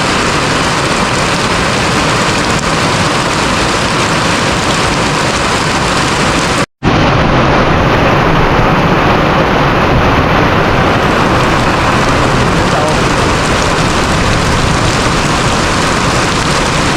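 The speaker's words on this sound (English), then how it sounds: "Heavy rains out here in the village," Heavy rain falls in a Kenyan village, a loud, dense and continuous hiss of downpour on surfaces that lasts throughout, broken once by a brief dropout. There is no speech.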